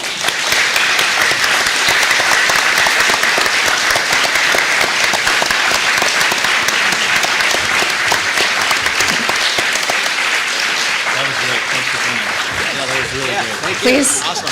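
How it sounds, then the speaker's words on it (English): Sustained, loud applause from the audience at a city ward candidate forum, dense continuous clapping for about fourteen seconds, with voices starting to talk over it near the end as it dies down. "you can show your appreciation for the candidates by your applause"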